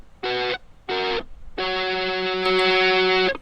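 An electric guitar track run through saturation in FL Studio plays two short, buzzy chord stabs followed by a long sustained chord, gritty and harmonically dense, with no talking.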